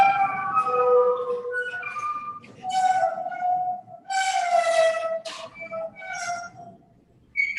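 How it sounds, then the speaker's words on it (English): A 112-year-old observatory dome at Mt. Wilson creaks as it rotates, giving a loud, continuous groaning and squealing with sliding tonal moans and brief pauses. "That noise you hear is the 112-year-old dome creaking along."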